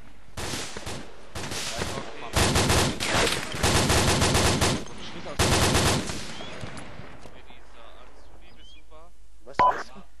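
Bursts of rapid automatic gunfire in a video game crackle in several loud volleys, separated by short pauses, followed by quieter scattered sounds and a single late shot.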